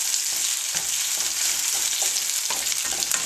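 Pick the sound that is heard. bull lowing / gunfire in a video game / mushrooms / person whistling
mushrooms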